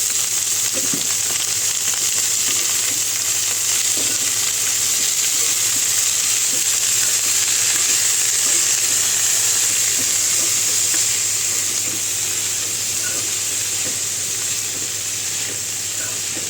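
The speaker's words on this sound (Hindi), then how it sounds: "इसको अच्छे से भून लूँगी" Onions and spinach fry in a pan for a palak aloo dish, giving a steady, loud, close sizzle with a constant hiss throughout and a few faint stirring knocks.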